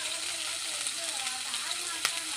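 Onions frying in a pan for chicken sambar, a faint, even sizzle with a soft crackle and a single sharp tap near the end, heard close but quiet.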